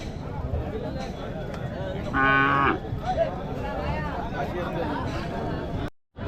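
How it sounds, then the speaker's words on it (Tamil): Cattle at the Madrapalli cattle market, where young calves are being sold; one loud moo rises above steady crowd chatter and the market's background bustle. "இங்கே ஒரு கண்ணு மாடு நல்லா கொண்டு வந்திருக்காங்க"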